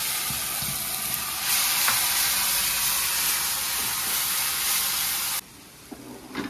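Ground spice paste hits a pan of reddish-fried onions and sizzles in a dense, close, steady hiss with light stirring, then the frying drops away sharply near the end, leaving a few soft clinks.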